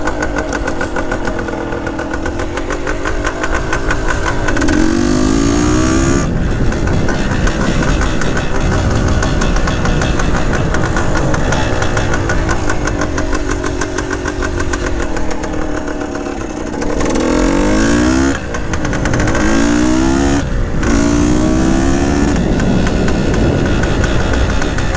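A 1970 Yamaha RT1 360 two-stroke motorcycle engine revs loudly and close for the whole stretch, with a steady buzzing drone and several sharp rising throttle blips near the middle and toward the end.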